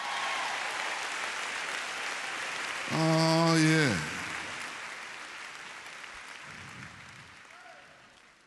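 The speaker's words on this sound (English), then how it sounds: "Give them some more applause, y'all." Steady applause from an audience at a school convocation, broad and sustained throughout, with a brief burst of spoken and sung voice rising over it midway and faint talk near the end.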